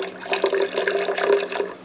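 Spring water poured into balsamic vinaigrette, a steady liquid trickle with watery splashing heard close up for about two seconds, no talking.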